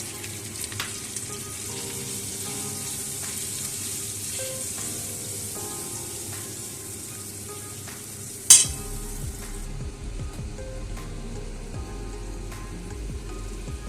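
Spices and whipped yogurt are stirred together in a pan for a roasted cauliflower dish, a low sizzle with soft scraping strokes and one sharp loud clatter midway, after which the frying settles lower and quieter.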